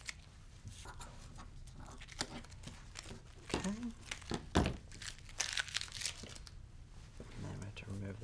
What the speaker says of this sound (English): now all you're gonna do is remove the tape from your backing